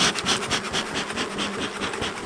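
Honeybees buzzing around a hive during hive cleaning and splitting, a dense steady drone of many bees close by with a pulsing texture and faint rubbing or scraping beneath.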